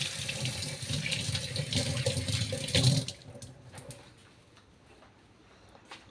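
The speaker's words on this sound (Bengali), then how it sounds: "হাতটা ধুয়ে নিই" Hands are washed under a running tap: water gushes loudly and steadily into the sink for about three seconds, then shuts off, leaving quiet room tone with faint drips.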